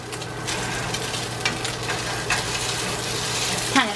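Bacon and sausage frying in a pan on a stovetop, a steady sizzle and crackle with faint stirring clicks, no talking.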